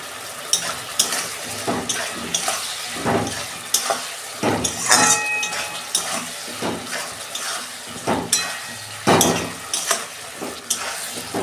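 Ground spices such as coriander, cumin and turmeric sizzling in hot oil in a pan for a fish curry with ridge gourd and potato, stirred with a utensil that scrapes and knocks the pan in irregular bursts over a constant fry.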